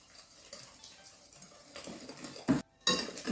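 Whisk beating vanilla sugar and plain sugar together in a metal bowl for biscuits, giving quiet scraping and clinking strokes that grow louder toward the end, with a brief sharp clatter near the finish.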